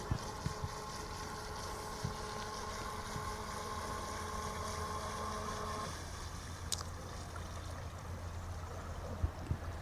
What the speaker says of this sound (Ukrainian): На маленькій швидкості розвертається, ось набрав вже швидкість і повертається додому.